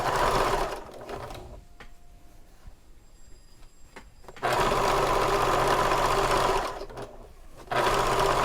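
Sewing machine top stitching across the top edge of a fabric convertible bag, its steady mechanical whirr running in close bursts with a quiet pause in the middle.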